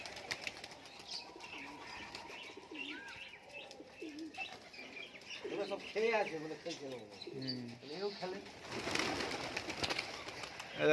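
Giribaz high flyer pigeons in a loft, soft cooing and chirps with occasional wing flaps in a cluttered, fairly quiet space, with background voices and bustle building toward the end.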